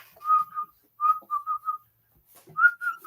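A person whistles random, tuneless notes with no melody, voice imitating idle whistling at a workplace; short bursts in irregular spurts, close and clear, with a pause before a final run of notes.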